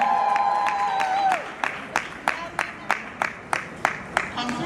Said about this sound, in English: Awesome round of applause for her